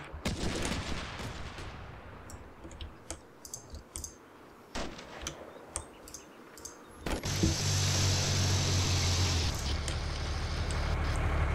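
Artillery fire for effect in the tactical war game Combat Mission Black Sea: sharp distant impacts in the first seconds, then a sustained loud rumbling roar of shelling that carries on to the end.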